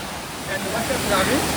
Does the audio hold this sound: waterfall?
yes